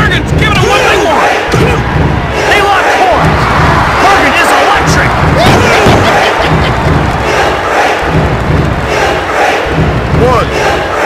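A loud, roaring arena crowd cheers and yells without a break in the WWF Attitude wrestling video game, with dull thuds and slams from the ring punching through the din.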